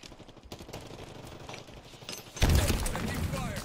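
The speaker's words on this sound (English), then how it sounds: "Taking fire." Video game gunfire, rapid clattering bursts under steady talk, growing louder and denser near the end.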